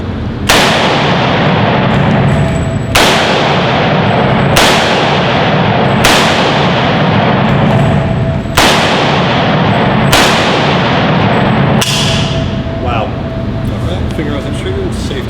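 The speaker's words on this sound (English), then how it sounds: "we're ready to fire." Loud, sharp gunshots at steel targets, fired one at a time at an even pace of roughly one shot every second and a half, each with a short ringing tail.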